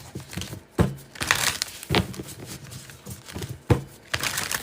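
Tarot cards being shuffled by hand during a live reading, giving papery riffles and crinkly bursts that recur every second or so, fairly close and moderately loud with no talking over them.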